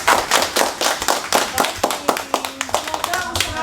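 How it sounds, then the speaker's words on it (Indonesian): Audience applause at an Indonesian small-business (UMKM) outreach session, a burst of scattered hand claps with uneven rhythm, fairly close, with a voice speaking over it toward the end. "kita tepuk tangan untuk Bapak"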